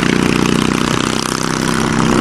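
Engine of a homemade farm vehicle running close by, a dense, steady, rapidly pulsing putter like a motorcycle idling, loud and continuous with no speech.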